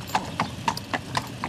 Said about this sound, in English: as the horse and Jerry and Tom move around the road